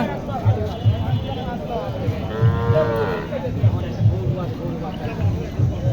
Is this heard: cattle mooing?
yes